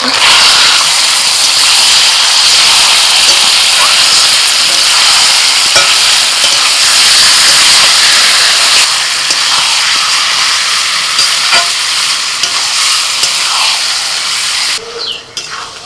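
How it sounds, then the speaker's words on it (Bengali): Spice-marinated chicken goes into a pan of fried onions in hot oil, producing a loud, continuous close sizzle and hiss with faint stirring scrapes throughout. "মশলা মাখানো চিকেনটা আবার দিয়ে দিচ্ছি"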